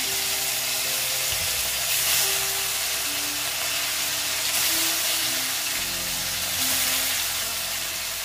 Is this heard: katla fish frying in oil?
yes